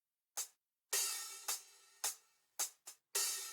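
Processed MIDI hi-hat from a programmed drum kit with effects and low cut, seven bright sizzling strikes in an irregular pattern, several sustaining into washy tails, played alone.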